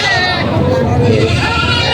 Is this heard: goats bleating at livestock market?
yes